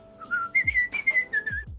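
A short, clear whistled tune from a person in a Little Women film scene, a few sliding and held notes close up, with soft footsteps or thuds underneath.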